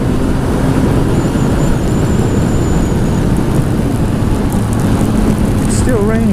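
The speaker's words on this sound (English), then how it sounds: "It's still raining. Oh wow. Raining harder now than it was a minute ago." Rain falling heavily in a steady, loud, dense hiss that fills the whole clip, with a faint tone and some light squeaks toward the end.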